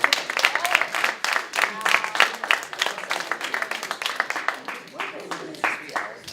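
Applause from an audience at a Purim party mentalist show, dense clapping sustained through the whole stretch with some voices mixed in, moderately loud and close.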